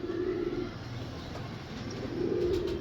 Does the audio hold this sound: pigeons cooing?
yes